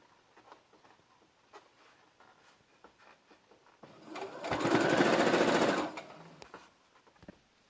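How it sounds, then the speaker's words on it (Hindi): A sewing machine stitches the sleeves of a baby frock in a single steady burst of rapid, close whirring lasting about two seconds, with faint handling sounds before and after. "बाह के ऊपर। सिलाई का कपड़ा अंदर दबाते हुए सफाई से दोनों बाहों में इसी तरह से सिलाई करेंगे।"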